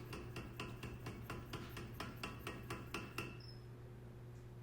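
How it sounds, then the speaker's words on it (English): A power hammer forging chain-making metal pounds in a fast, even rhythm of about a dozen heavy blows, then stops, leaving a low hum. "This new power hammer that Scott has is quite the beast"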